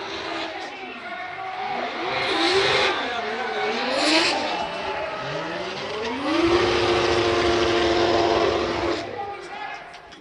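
Subaru BRZ drift car at Fuji International Speedway, its engine screaming through rising and falling revs as it drifts, loud and sustained with a commentator talking over it.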